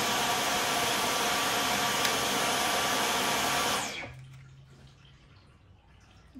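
A Dyson V15 cordless vacuum cleaner runs with a steady, loud whine and airy rush for about four seconds, then switches off and spins down, leaving a quiet low hum behind.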